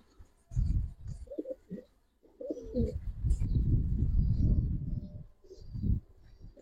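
Giribaz pigeons coo in soft, low throaty bursts, several repeated calls close by with brief pauses between them, and no talking.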